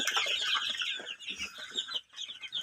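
Two-month-old and 35-day-old Fayoumi chickens cluck continuously and close up in a dense, busy flock chorus, with brief dips in loudness.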